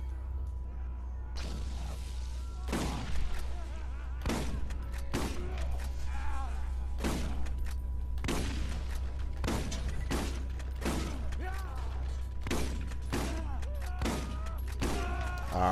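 Scattered gunfire bursts and blasts in the Borderlands shooter game, a string of sharp, evenly spaced reports over a steady low hum, with a voice speaking faintly in between.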